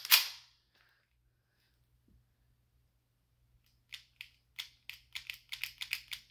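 A gas-powered M9 airsoft pistol fires, first a single loud crack, then after a pause a quick uneven burst of sharp snapping shots on full auto, close and without talk.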